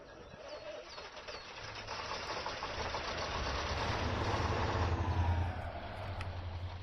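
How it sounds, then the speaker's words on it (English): A truck engine in the Spin Tires off-road video game starts and idles, a low steady mechanical rumble that grows slightly louder over several seconds before easing, heard alone without talk. "we're gonna go ahead and click start engine and go ahead and listen to this"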